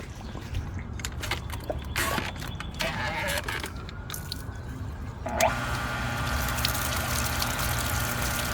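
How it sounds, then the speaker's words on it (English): Water rushes and gurgles through an above-ground pool sand filter being backwashed, a wet squishing flow that settles into a steady louder stream partway through, with no talking. "I'm going to backwash it right quick."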